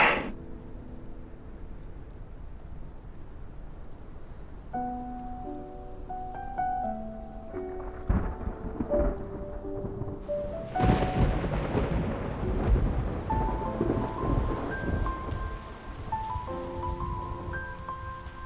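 Steady rain patters under deep rolling thunder in the video game Love and Deepspace, with a melodic game-like musical tune playing over the storm throughout.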